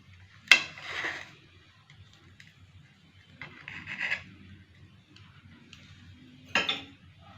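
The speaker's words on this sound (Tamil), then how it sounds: "இப்போ இந்த கேக்கை கட் பண்ணி காமிக்கிறேன்." A knife cuts through a dry fruit cake on a plate, giving three short, quiet bursts of scraping and tapping against the plate, separated by near silence.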